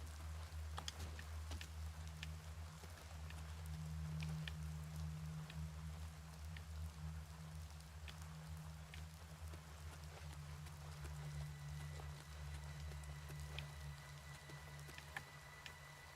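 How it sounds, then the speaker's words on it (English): Rain falls in the video game Oblivion Remastered as a faint, steady hiss with scattered droplet ticks, heard alone over a low ambient hum. "It's raining."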